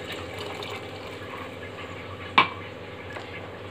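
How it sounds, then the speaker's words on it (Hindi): Water from a full glass pours steadily into a pot of boiling milk while shahi tukda is being made, a continuous liquid rush with one sharp splash or clink partway through. "इसमें मैंने डाल दिया 2 गिलास पानी।"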